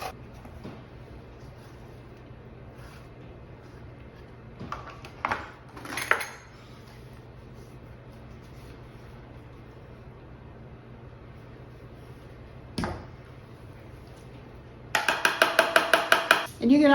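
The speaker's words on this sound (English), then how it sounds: "another great thing about this grater is that it has little blades that face both directions" A vegetable is grated on a grater with blades facing both directions, preparing tzatziki: scattered clanks of kitchenware come first, then a fast, rhythmic run of scraping strokes close by near the end.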